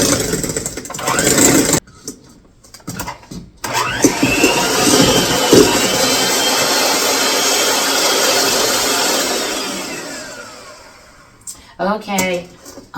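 An electric mixer creams butter and sugar in a large bowl for gingerbread, giving a steady whirring motor drone for several seconds, with short bursts of talk before and after.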